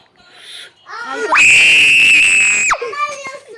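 A child lets out one loud, piercing, sustained scream lasting over a second while playing Roblox Murder Mystery 2, with brief vocal sounds and chatter just before and after.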